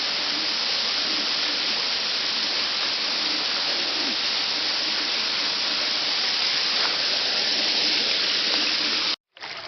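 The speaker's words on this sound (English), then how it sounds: "The waterfall is back over that way, so it's not going to be as loud." Waterfall on a creek along a hiking trail, a steady, loud rushing roar of falling water that continues unbroken before a sudden cut at the end.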